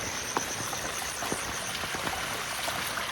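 Water runs steadily from a pipe set up for washing hands and feet along a mountain route, a continuous splashing trickle with occasional small drips, close by and without voices.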